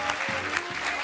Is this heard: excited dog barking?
no